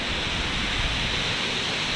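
A river flows below a bridge near Mount Cook in New Zealand, a steady broadband rush of water heard alone with no talking.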